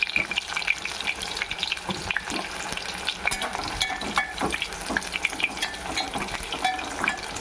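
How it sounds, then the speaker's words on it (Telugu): Bitter gourd pieces, seeds removed, fry in hot oil for a spicy powder, giving a steady, close crackling sizzle with occasional stirring scrapes and no talk. "ఆయిల్ వేడెక్కిందండి, వేసుకుందాం. కొంచెం కొద్దిగా వేసుకొని వేపుకుందాం."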